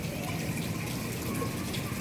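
Water running into a clay pot, a steady close gushing pour that carries on evenly for the full two seconds with no pauses.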